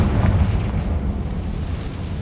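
The Confringo blasting spell from Hogwarts Legacy explodes with a loud, deep booming blast that rumbles and fades over a couple of seconds.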